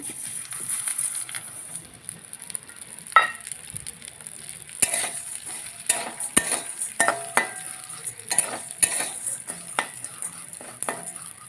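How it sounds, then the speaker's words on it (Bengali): Chosi fries in a little ghee in a pan, a close sizzle broken by frequent sharp clinks and scrapes of a utensil against the pan, with no talk. "ঘি দিয়ে এখন একটু লালচে লালচে করে ভেজে নিব"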